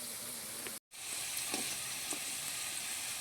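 Paneer (chhana) rolls fry in desi ghee with a steady, close crackling sizzle that cuts out for a split second before carrying on.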